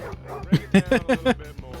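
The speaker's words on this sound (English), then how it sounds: "Come here, dog!" A dog in the video game Jackass: The Game gives a quick series of short barks and yips, about five close, loud bursts in a row with brief gaps between them.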